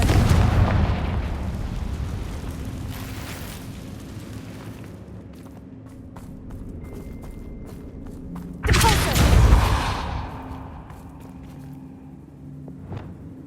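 Confringo fire spell in Hogwarts Legacy: a rumbling blast opens, scattered crackles follow, then a second loud burst of explosive roar that slowly decays, close and heavy.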